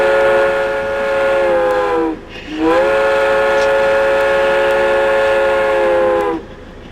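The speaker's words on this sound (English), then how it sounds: "we were lucky enough to see the Pitchy Ritchie train steam past us." A steam train passing through Pichi Richi Pass between Port Augusta and Quorn sounds its whistle in two long, loud, sustained blasts with a short break between them, over a steady outdoor rumble.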